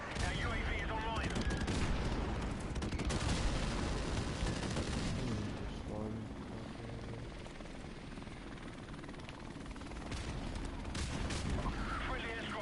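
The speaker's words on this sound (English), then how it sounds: "Friendly airstrike on the way." Video game battle with a friendly airstrike and gunfire: a steady helicopter-like roar under scattered shots and distant blasts, with a voice announcing over the din at times.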